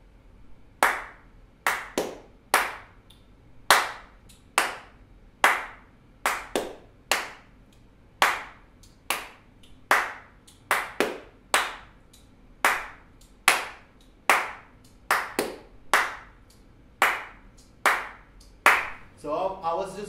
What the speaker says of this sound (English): So I was just doing the clap combination in a little loop